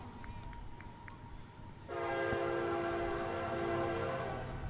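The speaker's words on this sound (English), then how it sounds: "As a train makes its way by, just behind us" A train rumbles past just behind a minor-league baseball field, its horn sounding a long, steady blast that starts partway through and holds to the end over the continuous rolling noise of the cars.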